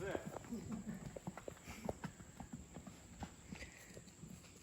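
Horses carrying bags walk along a trail in a rural Amazon community by the Macauã River, hooves clip-clopping in an uneven steady rhythm at close range while people talk over them.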